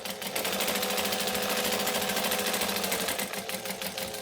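A sewing machine stitches a handbag forward and then back, making a rapid, steady mechanical chatter that runs near and continuous with a brief change in pace, and no talk.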